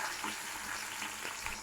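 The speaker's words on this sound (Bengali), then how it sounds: "হালকা ভেজে নিই" Tomatoes lightly frying in a pan, a soft even sizzle heard faintly for a moment, with no talk.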